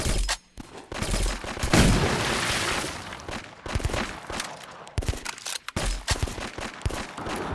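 Bursts of rapid gunfire from a zombie video game crackle loudly, with a sustained volley early on followed by shorter choppy shots and pauses, with no talking over them.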